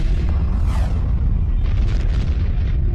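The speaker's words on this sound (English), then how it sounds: "a massive star explodes, sending a lethal burst of energy rocketing toward our planet" A sound effect for a massive star exploding as a gamma-ray burst: a loud, deep, sustained rumbling boom with crackling swells, filling the whole stretch without speech.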